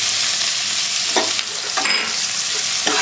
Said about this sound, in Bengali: এরপর তেলের মধ্যে দিয়ে দেবো পেঁয়াজ কুচি।